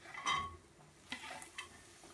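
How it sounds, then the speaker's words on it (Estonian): Chopped onion and garlic frying in a pan for cabbage rolls, with soft sizzling and a few sharp stirring scrapes and clinks of a utensil against the pan, fairly quiet and close with no talking. "Ja seejärel paneme need mõlemad panni peale praadima."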